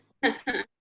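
Two quick sneezes in succession from a person with hay fever indoors, close and fairly loud, the second following right after the first with no talk over them.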